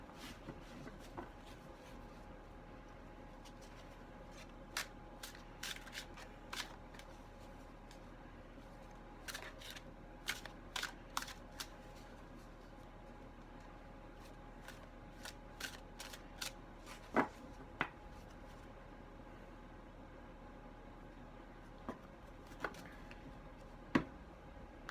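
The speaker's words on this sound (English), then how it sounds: "As always, shuffling live." Oracle cards being shuffled by hand, with a steady run of light, crisp riffling taps and flicks scattered through a quiet room, fairly close and soft, with no talking.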